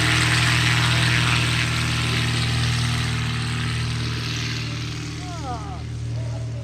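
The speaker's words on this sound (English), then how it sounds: "All right, here comes slow planes" Propeller airplanes flying slowly past at an airshow, a loud steady engine drone close by that eases slightly toward the end, with voices talking over it.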